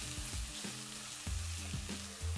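Minced fresh red chili fries in oil, a quiet continuous sizzle with repeated low scraping and knocking strokes of a spatula stirring through the pan at a quick, uneven rhythm.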